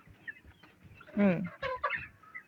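Chickens on a poultry farm cluck and squawk in a few short, close bursts, one louder call standing out amid scattered quieter clucks.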